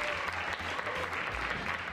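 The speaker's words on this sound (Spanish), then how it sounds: "los aplausos son para mí" A group of people claps in a steady, dense burst of applause lasting a couple of seconds, moderately loud with a low hum underneath and no voices.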